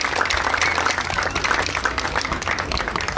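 Audience applause for Pat at a Veterans Day ceremony honoring those who served, a dense, steady wash of many hands clapping, fairly loud and close, continuing throughout without a pause.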